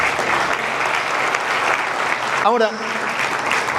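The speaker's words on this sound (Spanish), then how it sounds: "Denle un aplauso fuerte al Señor." A church congregation claps loudly and continuously at close range, then a voice briefly cuts in near the end.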